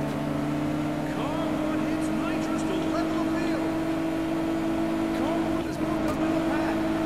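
Engine of a Nissan Skyline race car in the racing video game Juiced 2 drones steadily with a sustained whine, other cars passing, while a player talks over it.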